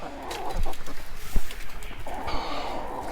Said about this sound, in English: we got 7 chickens producing eggs right now